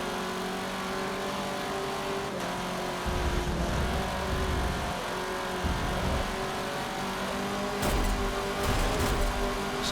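Off-road buggy engine in Forza Motorsport 7 racing, a steady loud motor drone with repeated revving surges and gear changes through the whole stretch, no talk over it.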